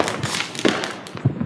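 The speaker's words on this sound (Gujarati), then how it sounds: "ને આવા કંઈક ફટાકિયા અમે તો ફોડીએ." Diwali firecrackers burst in a street in Porbandar, several sharp cracks and thumps in quick irregular succession over a noisy, crackling background.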